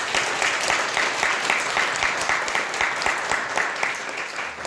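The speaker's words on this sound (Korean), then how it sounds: "우리 예배 시간에 다시 한번 우리 주님 앞에 감사의 박수 올려드리는" Steady, dense applause from a church congregation at a New Year's Eve service, many hands clapping together at an even level, tapering slightly at the close.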